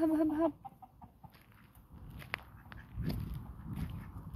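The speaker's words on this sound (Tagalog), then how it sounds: "Daming manok pumasok na kasi gabi na." A chicken gives a short clucking call at evening, then quieter rustling and scratching movement follows with faint background noise.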